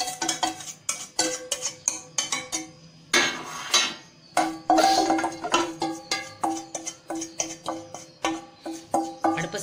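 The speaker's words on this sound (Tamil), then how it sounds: "இப்போ இதை நம்ம கைவிடாமல் கிளறிட்டே இருக்க போகிறோம்" A metal spoon stirs and scrapes flour batter into hot sugar syrup for ghee Mysore pak, giving a steady run of sharp clinks and knocks against the pan, close and loud, with a brief softer scraping pause midway.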